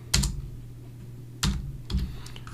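A computer keyboard tapped in a few separate clicks, one near the start and a closer pair near the end, against a low steady hum with no talking.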